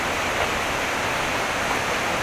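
Wachirathan waterfall in Chiang Mai sends out a loud, unbroken roar of rushing water, steady and close with no other sounds.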